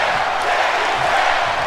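Wrestling crowd in WWE 2K20 roaring for Braun, a dense, steady wall of cheering and shouting that holds at full volume throughout.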